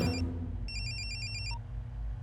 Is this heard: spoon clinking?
no